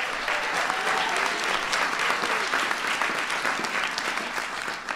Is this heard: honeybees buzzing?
no